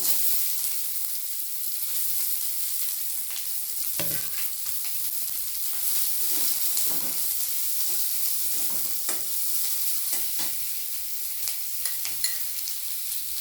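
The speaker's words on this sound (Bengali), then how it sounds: "এবার দিয়ে দেবো কিছুটা কুচানো পেঁয়াজ" Chopped onions fry in oil with cloves, cinnamon and cardamom, giving a steady close sizzle. Intermittent scrapes and taps of a stirring spoon sound against the pan, and no one speaks.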